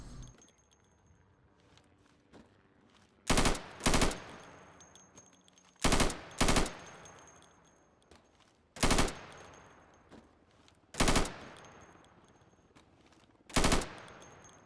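Sidearm pistol fire in the Insurgency shooting game, sharp loud single and paired shots spaced a few seconds apart, each followed by a decaying echo, with no talking.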